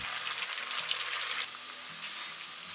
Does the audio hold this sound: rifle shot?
no